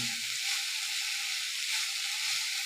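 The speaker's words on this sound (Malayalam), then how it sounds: "കഴുകി വെച്ച മുരിങ്ങയില മുരിങ്ങപ്പൂവാണ് അതിലേക്ക് രണ്ടും പച്ചമുളകും എന്നിട്ട് എന്നിട്ട് നന്നായിട്ട് വാട്ടണം" Moringa leaves and moringa flowers with green chilies sizzle steadily in hot oil in a pan, a close, even frying hiss lasting throughout with no voices.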